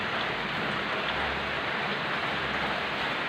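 Steady rain pouring down, a dense even hiss of drops hitting surfaces, constant throughout with no voices.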